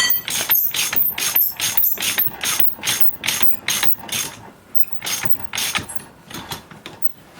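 A ratchet turns a 1 1/8 socket on a 2007 Polaris Sportsman 800 ATV during rear bearing work, clicking loudly and steadily in rapid repeated strokes, close up and alone.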